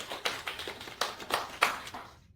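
A sparse round of clapping from a small audience at a formal event, about half a dozen faint, separate claps spaced irregularly before fading out.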